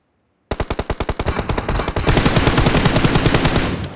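Loud, sustained automatic rifle fire in the mobile battle royale game BGMI, beginning abruptly after a moment of silence with evenly spaced shots that speed into a dense, rapid burst lasting several seconds, close and unaccompanied by speech.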